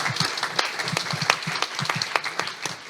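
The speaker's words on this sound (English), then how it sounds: "Have a big applause for Professor Michał Kurtyka." An audience in a university lecture hall claps for Professor Michał Kurtyka after an EU energy session, a brisk burst of applause from a moderate crowd with distinct individual claps close by.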